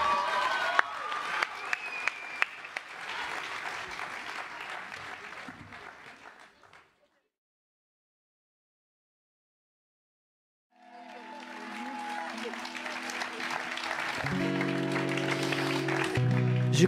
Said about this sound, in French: Ça s'applaudit très, très, très, très, très, très, très fort.